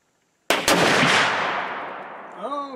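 A single loud blast from a Winchester X 150 muzzleloader rifle fired outdoors, with a sharp onset and a long rolling decay, a faint tonal sound at the very end.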